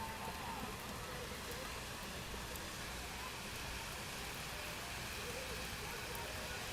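Steady, slightly sideways rain patters in a dense, even hiss at a girls' soccer game, fairly faint, with a commentator's voice murmuring now and then.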